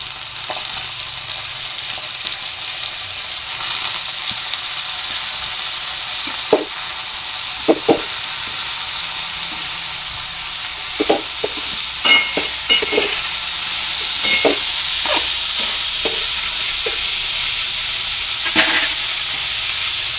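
Grated dried potato fries in a pan for a fasting khichdi, a steady close sizzle with intermittent scraping clicks of stirring throughout.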